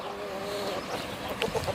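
Several chickens cluck and call nearby in short, irregular bursts over a steady background hum.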